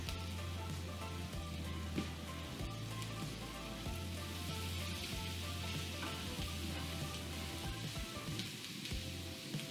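Bacon frying in olive oil, a dense steady sizzle with fine crackling pops close up, over a low background hum, with no talk.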